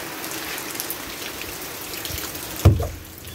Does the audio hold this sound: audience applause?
no